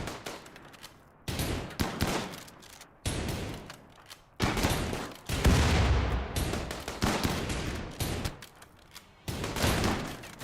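Video game gunfire comes in repeated loud bursts of rapid shots separated by short quiet gaps, with a heavier, denser volley near the middle.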